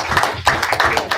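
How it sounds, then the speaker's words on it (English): Audience applause at a Bitcoin meetup talk, a short burst of dense clapping from a room of listeners, fairly close and steady throughout. "And let's give Madison one more round of applause."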